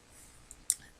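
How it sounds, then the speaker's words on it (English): Scissors trim patterned paper around printed succulents on a handmade card, giving two quick, close snips over a quiet background. "I'm going to take my scissors, and I'm going to trim down, trimming around a few of the succulents"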